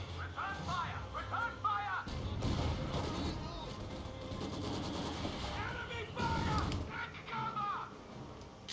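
Mortar and counter-mortar fire in a Company of Heroes 2 three-versus-three match, with dull thumps and booms rolling beneath a busy battle din and overlapping chatter.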